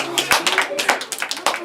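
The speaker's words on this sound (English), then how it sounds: "let's give them a round of applause" A small group in a student pitch session claps, sparse uneven hand claps ringing out close by in an irregular burst over a short moment, with voices mixed in.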